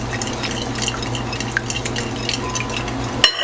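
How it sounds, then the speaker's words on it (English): A whisk beats hollandaise sauce in a double boiler, a continuous scraping and clicking stir against the bowl over a low steady hum. "This is constantly whisking."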